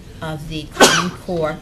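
A single sharp sneeze bursts out during a school committee budget meeting, sudden and loud between stretches of speech.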